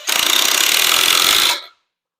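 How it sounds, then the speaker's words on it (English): A power drill drives 3-inch T25 screws into a wooden hive stand on concrete, one loud continuous buzzing whine lasting about a second and a half before cutting off abruptly. "I use T25. These are 3-inch screws."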